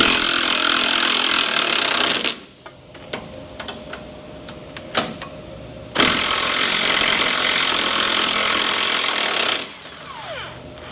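Large impact gun with an extension removing bolts on a Duramax LBZ diesel engine, two long loud bursts of hammering whir separated by quieter clicks and shop noises, heard close.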